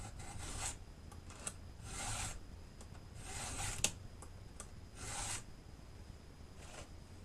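A hand file sharpening the cutter teeth of a chainsaw fitted for a chainsaw mill, a faint, rhythmic rasping of repeated short strokes with brief pauses between them, close by.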